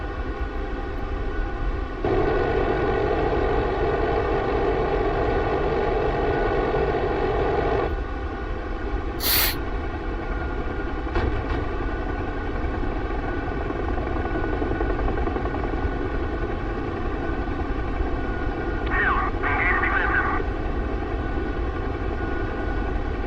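A Chinook twin-rotor helicopter in flight in DCS, a loud steady engine and rotor drone with layered tonal hum, briefly punctuated by a sharp high tone and a later warbling beep.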